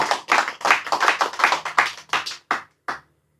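Audience hand clapping at a religious study gathering, a steady run of roughly a dozen sharp claps that thins out and stops, close and fairly loud with no talk over it.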